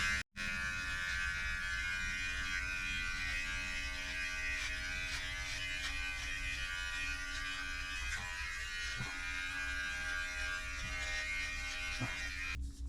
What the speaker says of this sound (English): I was offered a free review copy of this Ibex hair and beard trimmer